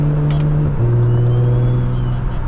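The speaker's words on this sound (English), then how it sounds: "I hear a little burble" A Mustang engine idles with a low, steady exhaust burble, briefly dropping in pitch, heard up close at night without speech.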